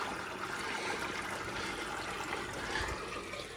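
Water runs steadily through a sump drain beside a house foundation, flowing toward a corner drain, with a continuous close rushing and trickling wash and no voices.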